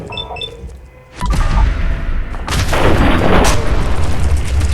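A grenade detonates loudly in Fallout 4, a sudden heavy boom followed by a second rumbling blast that lingers, with no talk over it.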